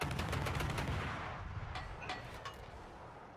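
Naval guns firing in World of Warships, a rolling, distant-sounding salvo of booms and crackling blasts that slowly fades, moderately faint with no talk.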